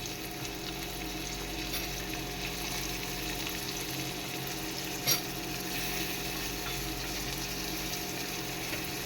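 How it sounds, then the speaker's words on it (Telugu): Green chilies and onion roasting in a pan until the onion browns: a steady, close frying hiss and crackle that holds evenly throughout, with one brief clink of a utensil partway through. "పచ్చిమిర్చి వేడయ్యాక మంచిగా రోస్ట్ అయ్యాక అందులోనే ఆనియన్ బ్రౌన్ కలర్ వచ్చే వరకు రోస్ట్ చేసుకోవాలి."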